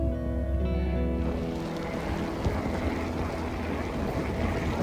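Steady broad rumble of a ferry engine and rushing water and wind while travelling down a fjord on the Carretera Austral in southern Chile, constant and loud throughout with no voices.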